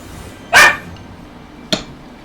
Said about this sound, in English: Why are you barking at him?